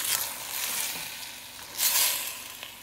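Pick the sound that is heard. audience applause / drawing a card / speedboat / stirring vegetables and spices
stirring vegetables and spices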